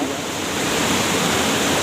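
A waterfall on a river near the village of Keumumu Seberang pours with a dense, steady rushing roar, loud and unbroken throughout.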